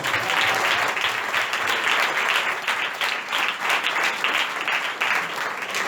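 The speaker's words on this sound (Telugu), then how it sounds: "గట్టిగా చప్పట్లు కొడదాం" A church congregation claps loudly and steadily in a dense, even burst of applause that continues without a break from start to finish.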